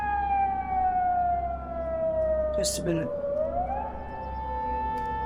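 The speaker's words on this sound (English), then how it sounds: "I've never heard sirens like this before in my life." A long wailing siren sweeps slowly down in pitch then rises again, loud and steady over traffic rumble, with a brief spoken remark partway through.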